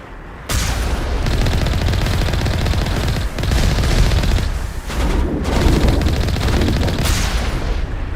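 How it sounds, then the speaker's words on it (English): Heavy gunfire from a sniper in the video game Mass Effect, loud sustained blasts and crackling rounds across several seconds with brief gaps between volleys, no speech. "It's a sniper."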